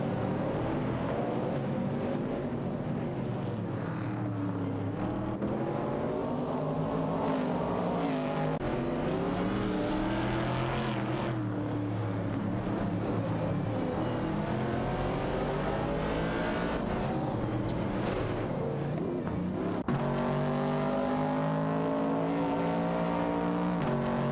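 Race cars in a racing video game, a Plymouth Barracuda among the pack, roar continuously with layered engine notes rising and falling as cars accelerate, shift and jostle close together throughout.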